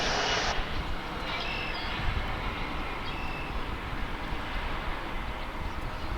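An airliner arriving from Wichita at Dallas/Fort Worth Airport sends a steady, broad jet roar across the whole stretch, with a brief brighter burst at the start and no talk.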